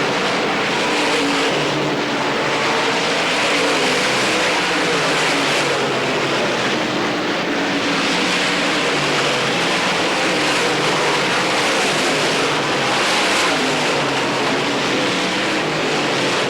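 Race cars roar continuously through the number 1 and 2 corner at Pennsboro Speedway during the 1990 Hillbilly 100, a dense, loud, unbroken engine wash with no pause.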